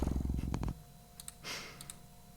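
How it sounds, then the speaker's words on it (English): A cat in a video game lies down and purrs sleepily, with a short, close, rumbling purr at the start that fades into quiet with a few faint soft clicks. "the cat pads over to you before laying down and purring sleepily"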